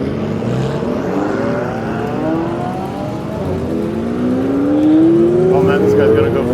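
A car pulls hard out of a crowded Japanese New Year's car meet, its engine note climbing steadily as it accelerates away, loud and close over background crowd and traffic noise.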